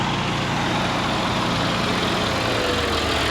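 A tractor engine idles on a ranch feedlot, a loud, steady low rumble that holds constant throughout with no breaks.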